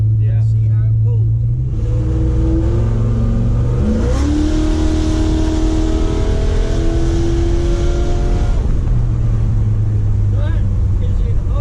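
A dual quad carbureted car accelerates in high gear from about 25 miles an hour, its engine note climbing in pitch with a loud, close roar before settling back, with voices talking over it.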